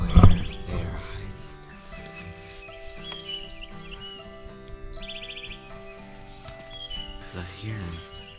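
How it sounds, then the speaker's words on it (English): Birds chirp and call outdoors in short bright bursts scattered through the clip, fairly close, over a low steady background hum. "There's a lot of birds here."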